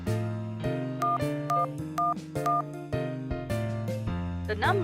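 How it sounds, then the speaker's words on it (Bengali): A telephone number being dialed, a rapid run of distinct beeping tones, one per keypress, over a melodic electronic background tune, fairly close and clear. "একবার ফোন করে দেখি।"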